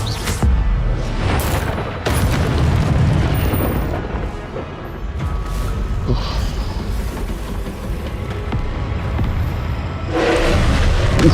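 Confringo fire spells go off repeatedly in Hogwarts Legacy combat, loud booming blasts over a dense, continuous rumble of battle noise, with sharper bursts near the start and again near the end.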